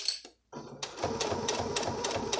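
A home sewing machine stitches down a centered zipper, a steady rapid mechanical chatter that starts after a brief pause and runs close and continuous to the end.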